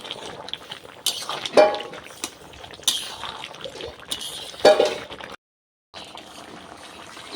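Ground spices stirred in a pan while jackfruit and prawn curry cooks, a few sharp clinks of a spoon against the pan over a soft sizzle, with a brief silent gap.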